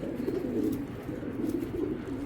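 Racing pigeons in breeding condition coo softly and continuously, a low murmuring burble close by, with no talk over it.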